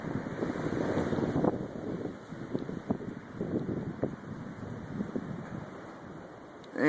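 Blizzard wind in Lake Zurich driving snow, a rushing, gusty roar buffeting the microphone and rising and falling in waves throughout.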